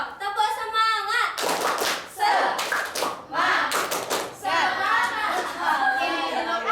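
Students in a classroom repeat the rhythmic 'tepuk semangat' spirit clap louder on a second round. Several crisp bursts of many hands clapping in unison follow a brief spoken cue.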